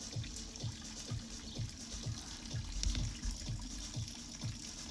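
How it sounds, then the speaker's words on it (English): Water splashes and gurgles as it is poured into a hot liquor tank for brewing, a soft, steady flow with a regular pulsing slosh. It sounds fairly quiet and close. "Finally was able to empty the rest of the water into the hot liquor tank."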